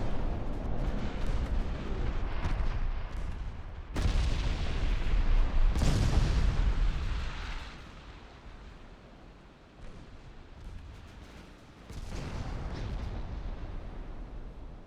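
Torpedo hits exploding against warships in the naval battle game Ultimate Admiral: Dreadnoughts produce heavy, rumbling booms, with sharp blasts around the fourth, sixth and twelfth seconds over a continuous roar of battle.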